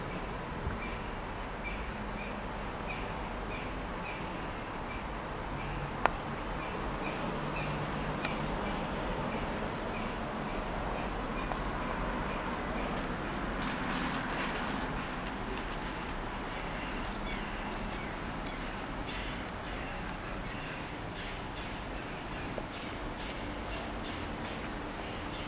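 Birds nesting up in a church bell tower give repeated cawing, squawking calls, moderately distant and fairly faint, over a steady outdoor background.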